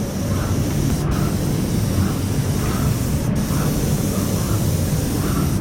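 Graco airless sprayer laying a light dust coat of paint on MDF, a loud, steady, close hissing spray that runs continuously without a break.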